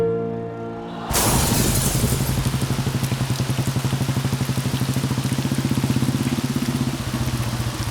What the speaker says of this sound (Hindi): कितनी बारिश आ रही है, मैं तो पूरा भीग गया